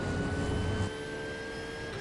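Porsche 911 GT3 R in iRacing at Silverstone roars hard under acceleration, then abruptly drops to a smoother, quieter whine as it runs flat out, engine tones steady and close.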